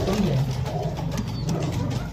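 Pigeons coo softly nearby, a few low, throaty calls over a murmuring background.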